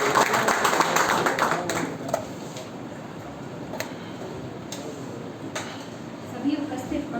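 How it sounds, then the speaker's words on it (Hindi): A lecture audience claps to welcome a speaker, a burst of scattered applause at the start that thins out into a few sporadic claps amid room noise. "जोरदार तालियों के साथ अभिनंदन और स्वागत।"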